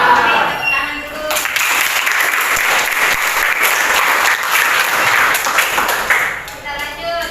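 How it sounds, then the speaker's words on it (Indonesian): Classroom applause from students during an economics lesson, a burst of clapping that rises quickly and fades, with a teacher's voice before and after it. "Oke, tepuk tangan dulu."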